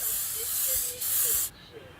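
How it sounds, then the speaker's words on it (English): Two bursts of cooking spray hiss loudly up close onto a pan, a brief break between them, then the hiss cuts off abruptly. "We're going to spray it first with a non-spray."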